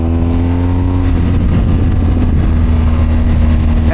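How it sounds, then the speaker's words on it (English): A BMW R1250GS motorcycle engine drones loud and close as captured by an Insta360 Ace Pro camera mic, a steady riding rumble with rising engine pitch. "See how well it captures the sound of my voice as well as the sound of the bike."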